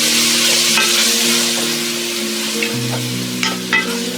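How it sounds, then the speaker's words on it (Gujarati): Chopped medium-size onions fry on a medium gas flame, a steady close sizzle with occasional scrape-and-stir clatter from a spatula in the pan. "મીડિયમ ગેસ ઉપર ઓનિયન સરસ લાલ થાય ત્યાં સુધી આપણે એને શેકી લઈએ।"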